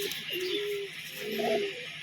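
Pigeons kept for sale, white-eyed fancy breeds, give soft low cooing calls, two short rolling coos close by over a quiet background.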